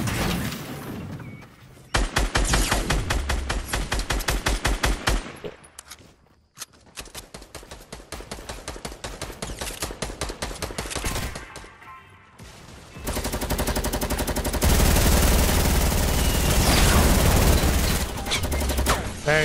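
Rapid bursts of gunfire in the video game Fortnite, loud and close, in repeated volleys with brief gaps and a denser stretch of sustained firing near the end.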